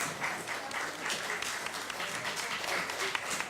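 Steady applause from a crowd at an outdoor town fair, a dense wash of many hands clapping at an even level throughout, no voices standing out.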